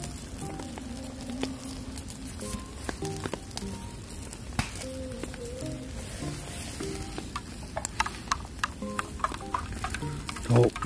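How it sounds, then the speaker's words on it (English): Spoon stirring hot chocolate mixed with white chocolate in a pot from a camping cook set, a steady clinking and scraping over a soft background sizzle of steak cooking nearby, continuous and close with no talking. "I'm gonna stir, I've got my spoons somewhere in my cook set."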